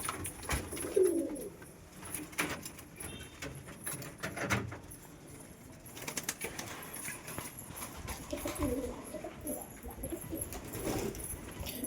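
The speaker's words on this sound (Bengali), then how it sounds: "এই যে পায়রা দুটো গেট ছেড়ে বাইরে বেরিয়ে গেছে" Pigeons coo softly at a moderate distance around a loft, with a few low, rolling calls rising over steady outdoor background noise and occasional rustling.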